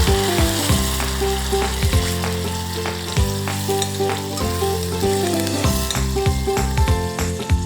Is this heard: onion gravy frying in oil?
yes